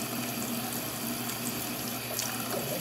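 Tap water runs steadily into a sink or bucket for a baby's bath, a loud, even, continuous splashing hiss with no voices.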